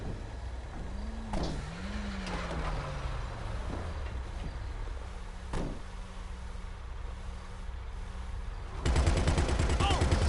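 Gunfire from a weapon in the video game GTA V: a few sharp isolated shots early on, then a dense rapid burst near the end over a steady engine-like hum and a rising whine, with no talking.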